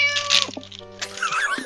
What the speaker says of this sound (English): Pet the Bloog and Gary meows